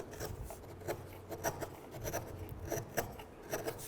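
A sharp chisel pares wood while carving a shell, making soft, close, rhythmic scraping and shaving strokes at a low level with no talking.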